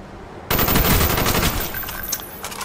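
Rapid bursts of assault rifle and submachine gun fire in a close-range video game fight, erupting suddenly after a quiet moment and rattling on loudly to the end.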